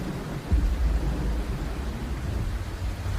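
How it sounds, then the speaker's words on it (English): A heavy thunderstorm with strong winds: one deep, loud rumble of thunder rolls in and lingers over a constant hiss of pouring rain. "heavy thunderstorms with strong winds swept across the region"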